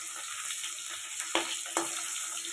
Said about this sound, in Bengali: তো মাছটা ভেজে নিচ্ছি এখন আমি